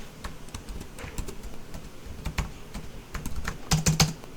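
Typing on a computer keyboard, heard as irregular close clicks and taps with a quicker burst of keystrokes near the end, no talk over it.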